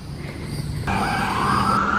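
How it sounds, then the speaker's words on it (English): An ambulance siren wails out on the road, a steady rising tone that jumps louder partway through and holds as the vehicle heads out toward the county line. "there goes the ambulance and the chief."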